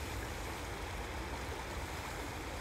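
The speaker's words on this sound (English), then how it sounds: "just enjoying this brook right here." Broad, steady rush of a flowing brook, close and continuous, with an even watery hiss and gentle gurgling and no voices over it.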